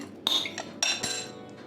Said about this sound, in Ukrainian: починаю ось так колотити, щоб наш желатин розчинився тут